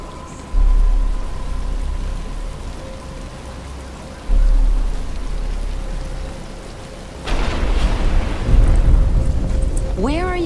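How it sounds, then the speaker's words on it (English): Rain falls in Batman: Arkham Asylum, a steady wash of drops under low rumbling swells that surge in a few times, with a brief tonal sweep at the end. "But it's starting to rain."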